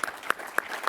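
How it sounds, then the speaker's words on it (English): Scattered applause from a conference audience at a session on AI and data in sports, with a handful of distinct claps over a soft background of clapping. "can I get a round of applause just for my guests?"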